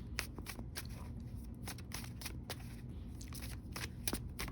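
Tarot cards being shuffled by hand, a steady run of quick papery riffles and flicks with sharp snaps close to the microphone, no talking.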